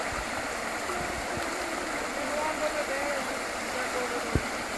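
A small creek flows at a campsite with a steady, close wash of rushing water and a faint whistle-like tone drifting above it, without pause across the whole stretch.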